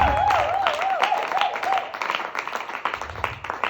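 A church congregation at a praise and worship service applauds God, loud sustained clapping with a voice crying out over it, the clapping becoming more uneven toward the end.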